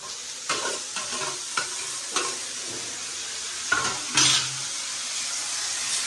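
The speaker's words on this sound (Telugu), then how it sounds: "ఉల్లిపాయలు అయితే వేగినాయి ఇప్పుడు ఈ టమాటా కూడా వేసేసుకున్నాము" Onions and tomato fry in a pan for a dried fish and egg curry, a continuous close sizzle broken by a few scraping stirs and one louder clatter near the end, with no talking.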